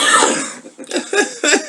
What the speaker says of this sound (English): You cough.